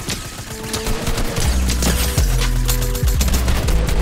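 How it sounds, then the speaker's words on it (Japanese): Test shots from a weapon in a Fortnite match: several heavy, booming gunshots spaced roughly a second apart, loud and close, over a dense layer of game noise. "試し撃ちよ。"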